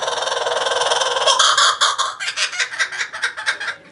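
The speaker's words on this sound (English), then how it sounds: "That's a kookaburra." Kookaburra call, a loud, close laughing chatter that rises into rapid rhythmic cackling bursts.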